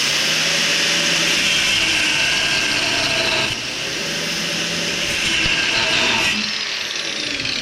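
A power tool grinds steadily through a rusted, seized shock absorber sleeve, a loud continuous cutting whine that dips briefly partway through before carrying on.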